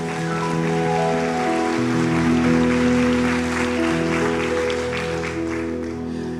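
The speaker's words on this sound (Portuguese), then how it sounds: "Aplauda o Senhor, pode aplaudir." A church congregation claps together during an Easter sermon, a soft, even patter of many hands heard under a sustained keyboard or organ chord that holds throughout.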